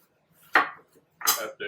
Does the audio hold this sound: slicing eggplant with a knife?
yes